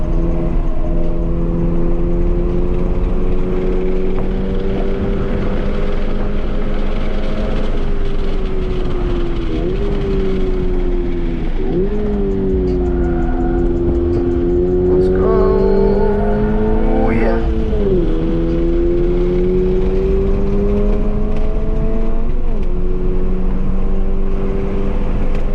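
A 2022 Subaru BRZ on a race track, its engine droning steadily with pitch rising and dipping through gear and corner changes while the driver talks over it inside the cabin.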